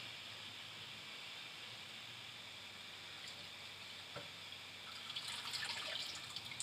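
Tap water runs steadily while saag greens are washed in a cooking pot, a continuous moderate hiss with a few splashes and drips growing louder near the end.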